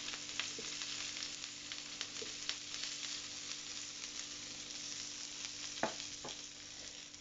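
Jerk salmon fillets fry in a hot pan after being turned over, giving a steady, close hiss of sizzling with a few soft scraping ticks, no voices.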